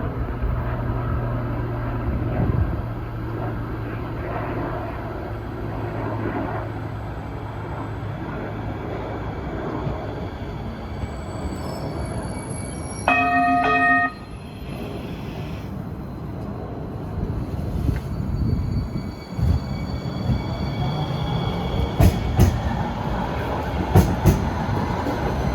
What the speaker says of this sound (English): Here comes a Hoboken-bound train,